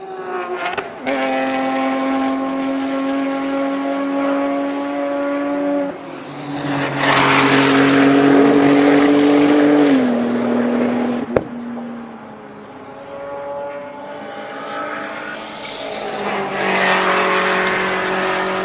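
Race cars at full throttle on the long back straight at Road Atlanta during a time attack session, loud harmonic engine drones rising and falling as cars pass, with one brief sharp click midway.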